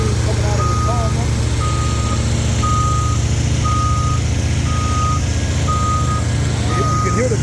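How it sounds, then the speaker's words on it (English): Truck backup alarm beeping at a paving job where tack and tar sealant is being applied: a steady run of evenly spaced single beeps, about one per second, over a loud constant diesel engine rumble and background voices. "You can hear the backup alarm as well."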